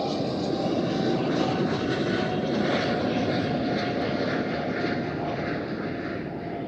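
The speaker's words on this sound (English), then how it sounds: "The E195 E2." An Embraer E195-E2 jet at Amsterdam Schiphol passes close by with a loud, steady engine roar that holds for the full stretch and eases only slightly near the end.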